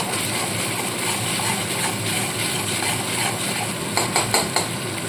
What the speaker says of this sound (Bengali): মশলাটা খুব ভালো মতো কষিয়ে নেবো